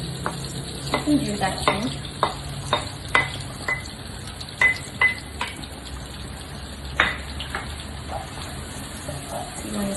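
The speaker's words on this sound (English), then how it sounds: "once the butter is melted, we're going to saute our onion" Onion sautés in melted butter in a pan, a low sizzle under repeated scraping and tapping of a spoon stirring, with a brief remark spoken partway through.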